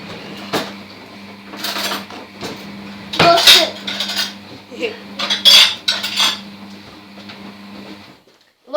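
Metal cutlery clatters and clinks in bursts as utensils are rummaged through to fetch a spoon, over a low steady hum, nearby and fairly loud.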